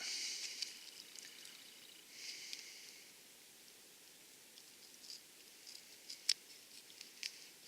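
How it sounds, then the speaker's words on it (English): Soft, quick snips of small scissors trimming a fire-damaged tarp, several light clicks spaced irregularly over a faint background hiss. "Little tiny scissors"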